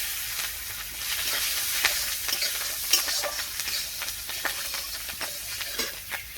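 Green chillies frying in hot spiced oil with tempering spices in a village kitchen, a steady close sizzle with sharp crackles and pops scattered throughout, alone with no voices.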